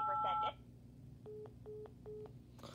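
Four short telephone keypad tones sound in a steady row, each a brief dual-pitch beep, clear and close over a low background hum after a moment of talk.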